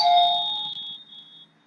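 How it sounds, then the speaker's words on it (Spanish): A doorbell rings once with a bright two-tone chime that fades out over about a second, heard indoors at moderate volume with no talking. "alguien ha tocado el timbre un ratito"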